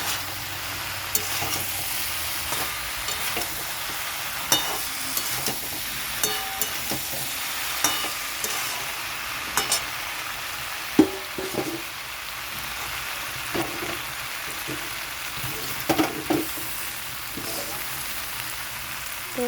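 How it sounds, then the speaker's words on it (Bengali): Shrimp fry in a pan for a Bengali raw banana curry, a steady hiss of sizzling oil broken by frequent clinks and scrapes of a spatula stirring, close and continuous. "চিংড়ি মাছটা হালকা ভাজলে চিংড়ি মাছটা খুবই নরম থাকে, আর খুব বেশি ভাজলে শক্ত হয়ে যায়।"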